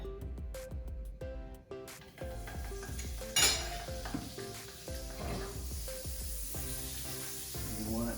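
Butter heating in a hot pan, a soft sizzle and foaming hiss with intermittent clinks and scrapes of utensils against the pan, one brief sharper burst partway through, fairly quiet overall.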